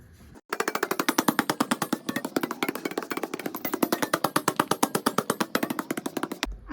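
Bhakri dough is patted flat by hand in a fast, even rhythm of sharp slaps, loud and close, continuing for several seconds before stopping abruptly.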